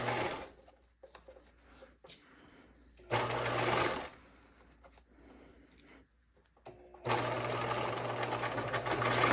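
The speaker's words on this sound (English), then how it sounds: "I really carefully pinned it so that it was all flat, and also that the lines were lined up." A sewing machine stitches a pocket onto a caddy bag in three loud, steady bursts separated by quiet pauses, with faint handling sounds in between.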